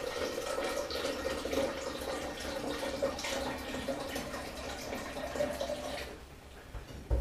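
Clear rhubarb juice pours steadily into a vessel for making juice kombucha, a continuous close liquid stream that cuts off near the end.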